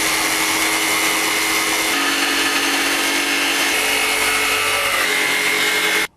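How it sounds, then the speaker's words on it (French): A jigsaw whines steadily as it cuts curves through wood, loud and close, running continuously before cutting off abruptly at the end. "Et maintenant avec la scie sauteuse, on va chantourner tout l'ensemble."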